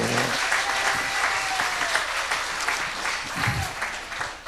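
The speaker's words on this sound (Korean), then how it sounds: "이것도 박수를 좀 쳐줘봐요." A church leaders' gathering claps in a dense, steady burst of applause filling the hall, with a few faint voices underneath, tapering off at the end.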